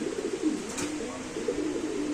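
Racer pigeons coo in a low, soft, continuous murmur, several birds close by with overlapping rolling calls and no talk.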